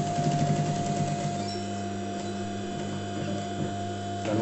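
An electric sewing machine stitches a welt pocket on fabric, a continuous rapid mechanical whir with a steady motor hum, close and moderately loud, with no speech over it.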